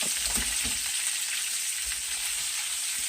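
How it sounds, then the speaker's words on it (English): Vegetables sauté in hot oil for a Christmas dinner, a steady close sizzle and hiss with a few soft stirring knocks near the start and again about two-thirds of the way through. "I'll put all this in here, and we're just going to saute it here."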